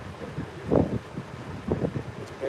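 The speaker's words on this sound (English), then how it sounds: "Yeah, it's a little bit windy." Gusty wind blows across the microphone at a cold carp fishing spot, a steady roar rising in a few stronger buffets, with faint voice-like sounds mixed in.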